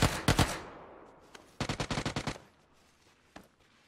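Rapid bursts from a minigun in a first-person shooter: a short opening volley, then a longer rattling stream of shots near the middle, and a single faint shot near the end, with quiet gaps between.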